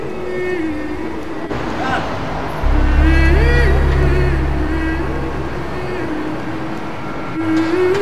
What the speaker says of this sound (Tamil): வாங்க, ட்ரெயின் ஸ்டேஷன் வந்துச்சு